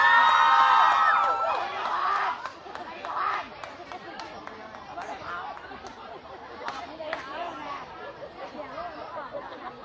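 An audience at a Lao dance performance cheers and chatters, a loud burst of shouting at the start fading into steady crowd babble with scattered calls and voices throughout.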